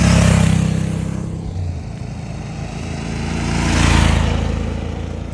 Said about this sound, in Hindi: बहुत सारे बाइकर्स आ रहे हैं।